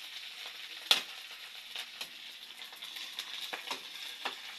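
Moringa (malunggay) leaves frying in a pan, a steady close sizzle with scattered crackles and pops, one sharp snap near the start, no voices.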